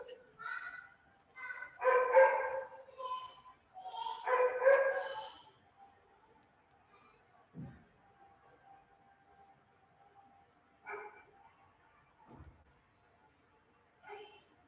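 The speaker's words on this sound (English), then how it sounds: "Sometimes my neighbors' dogs, they become, very hyper. They start barking at, the, like like hell." Neighbours' hyper dogs bark in two loud, clustered bursts, then fainter scattered yips and barks follow with long quiet gaps, sounding somewhat distant through a room.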